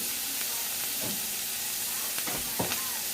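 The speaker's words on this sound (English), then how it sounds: "Beef's going in." Ground beef sizzles and hisses steadily in a hot pan, with a few scraping stirs breaking through the constant frying noise.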